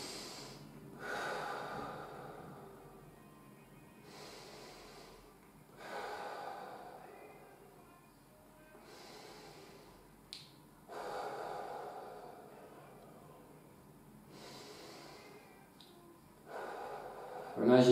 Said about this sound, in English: So breathing in deep through your nose